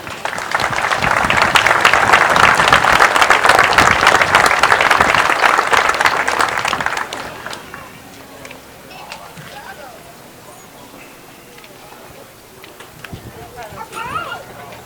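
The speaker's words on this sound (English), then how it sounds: "Let's give him a round of applause." Dense, loud applause from a large crowd at a Memorial Day parade in Marine City for several seconds, then fading into outdoor murmur with scattered claps and a voice speaking.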